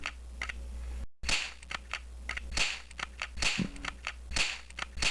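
Retro gunshots from a Windows 98 shooting video game, a string of sharp, bright cracks at irregular intervals over a steady low hum, with one brief dropout near the start.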